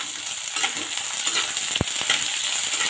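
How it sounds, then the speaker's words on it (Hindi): Onions frying in a pan while cooking a bitter gourd dish, giving a steady, fairly loud hiss and crackle with one brief knock of a utensil partway through, close by and with no talking. "प्याज को ब्राउन होने तक जल्दी से भून लेते हैं।"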